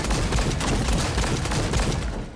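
Rapid turret bombardment from an Artillerist in the online action game Lost Ark, a dense, continuous barrage of booming shots that roars loud and unbroken with no pause throughout.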